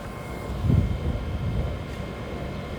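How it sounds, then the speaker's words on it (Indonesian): Outdoor air conditioner unit running with a steady low mechanical hum, moderately loud and constant, with a brief low thump near the start. "Gak ada pesawat, itu suara mesin AC kak."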